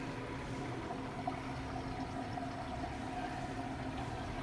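A washing machine runs its wash cycle with water, giving a steady, close churning hum with sloshing and pump-like drone that holds level throughout.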